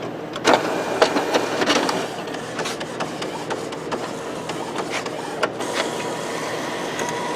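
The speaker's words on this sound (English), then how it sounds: "I'm going to run another nozzle check." An Epson printer fitted with a continuous ink system runs a nozzle check print, a steady mechanical whir broken by repeated clicks and short carriage bursts, close and fairly loud throughout.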